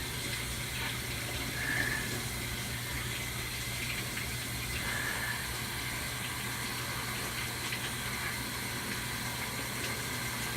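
Water runs steadily from a kitchen tap while onions and garlic are washed, a soft continuous hiss with faint splashes that stays at an even level throughout and carries no talk.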